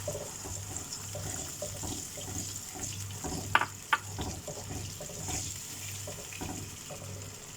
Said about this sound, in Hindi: इसी बाउल में थोड़ा पानी डाल के इसमें डाल देंगे।